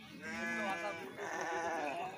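Sheep bleat at a busy weekly sheep market in Banaganapalle, two drawn-out, wavering calls heard close and clear over crowd murmur.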